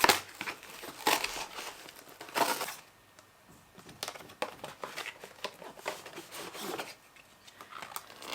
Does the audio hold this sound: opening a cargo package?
yes